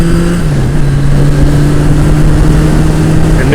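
A motorbike engine runs at close range with a loud, steady idle and a clear droning tone. It is being started during winter to keep it in use.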